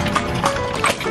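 A horse-drawn carriage rolls through the historic city of Vigan, Ilocos Sur, its horse's hooves clip-clopping close by among loud street noise and nearby voices.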